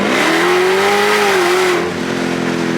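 A Dodge Demon 170 V8 revs hard through a short acceleration pull, a loud, rising engine note that holds and then eases off near the end.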